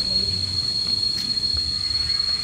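Many cicadas drone together in the forest on Mt. Makiling, a steady high-pitched shrill that holds throughout over a low, rumbling background with no break.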